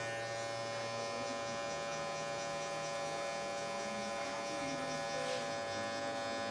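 Electric hair clipper buzzing steadily and close throughout while a fade is cut, the skin folded over the blade, a continuous motor hum with no talking.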